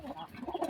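Young pet pigeons eating give a brief, faint cooing, soft low throaty notes close by in a quiet setting.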